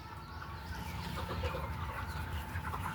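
A large flock of more than 2,200 layer hens on a poultry farm makes a dense, steady murmur of clucking. It is faint and continuous, with no voices.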